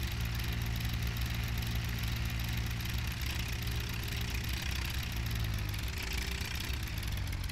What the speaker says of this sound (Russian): Такой мини-трактор.